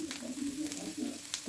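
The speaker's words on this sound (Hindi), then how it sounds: "गार्लिक, जिंजर, और इसको सॉटे कर लेंगे।" Garlic and ginger sauté in a hot pan, giving a brief close crackling sizzle with a soft steady hiss and small sharp pops, fairly quiet and with no talking.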